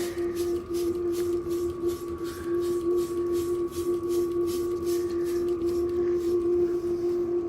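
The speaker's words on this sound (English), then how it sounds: "Spray that side." Repeated pumping bursts of CRC EvapoRust mist hiss onto rusty gym equipment, regular and close, tapering off near the end, with a steady hum underneath.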